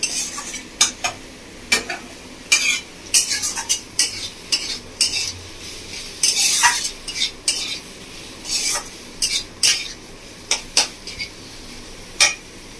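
Paneer with spices is stirred in a pan over a low flame, with a metal spoon scraping and clinking against the pan in irregular strokes over a faint sizzle.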